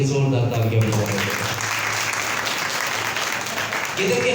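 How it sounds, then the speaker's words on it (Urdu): A church congregation breaks into loud, sustained applause during a sermon, the dense clapping filling the space from start to finish with music or voices faintly underneath at the opening. "یسوع کے لیے، نور کے لیے زوردار تالیاں بجائیں۔"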